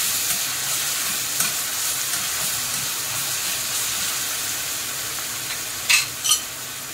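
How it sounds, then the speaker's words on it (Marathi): Crushed ginger, garlic and green chilli paste sautéing in a pan, a loud, steady hiss of hot oil, close by, with a couple of sharp bursts of sizzle near the end. "त्याच्यानंतर मी आलं लसूण आणि हिरव्या मिरचीचा ठेचा केलेला आहे, हा टाकूया। चांगलं असं परतून घ्यायचं।"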